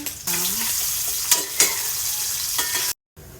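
Breakfast of ham, eggs and dried fish frying in a pan, a steady loud sizzle with a few scrapes of stirring, cut off briefly by a gap of silence near the end.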